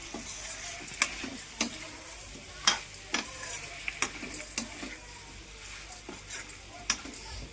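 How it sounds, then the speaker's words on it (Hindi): Cauliflower and potatoes fry in a pan and are stirred, a steady close sizzle broken by repeated scraping knocks of a spoon against the metal at an uneven rhythm. "ऐसे करके मतलब फ्राई करके गोभी बनाओ तो बहुत अच्छी बनती है"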